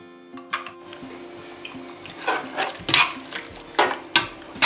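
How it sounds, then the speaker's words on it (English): A spoon stirs Nigerian egusi soup in a pot, giving a series of close, irregular scraping and clinking strokes against the metal with short pauses between them. "Give it a good stir."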